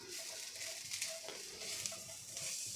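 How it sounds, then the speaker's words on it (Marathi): Grated coconut sautéed with jaggery in a pan, giving a continuous soft sizzle with light stirring scrapes throughout, quiet and close with no talking. "खोबरं छान परतून झालं की त्यामध्ये आपल्याला अर्धा कप गूळ घालायचा आहे"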